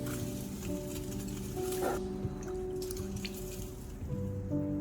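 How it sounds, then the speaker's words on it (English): A carrot is washed by hand in a light saline water soak, making soft, quiet splashes and scattered drips close by. "I also soak and wash it in a light saline solution to remove any impurities."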